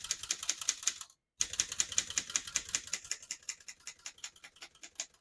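Rapid keystrokes clatter from a 1929 Corona 4 vintage portable typewriter, a steady crisp tapping rhythm close by, broken by one brief pause near the start.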